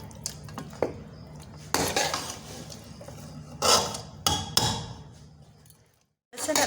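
Quail cooking in masala in a pan, stirred and fried with repeated scraping and clanking of a metal spoon against the pan, close, with bursts of clatter between quieter sizzling stretches.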